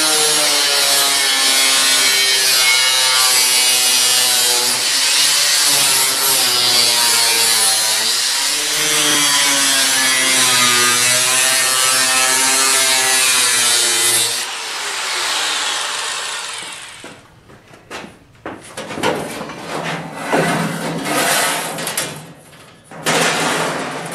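A power tool cuts through car floor pan metal, a loud continuous whining buzz with wavering pitch for about fifteen seconds, then stopping and starting in short irregular bursts with clanks and rattles as the cut finishes.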